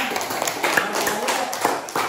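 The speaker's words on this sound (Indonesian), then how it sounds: "terima kasih tepuk tangannya" Short, scattered hand claps from a classroom audience after a group presentation, a few people clapping unevenly and briefly with a voice speaking over them.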